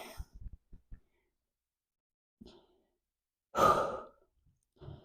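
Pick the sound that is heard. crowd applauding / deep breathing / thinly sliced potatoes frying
deep breathing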